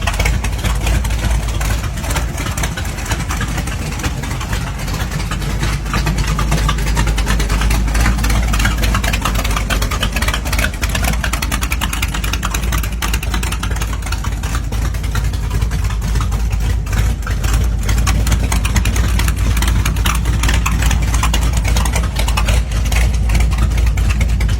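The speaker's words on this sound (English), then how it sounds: "this 31 Ford is a steel-bodied build powered by a small block 350, topped with a tunnel ram intake and dual carburetors" A steel-bodied 1931 Ford hot rod with a small block 350, tunnel ram intake and dual carburetors idles steadily, a loud continuous low rumble with no talking.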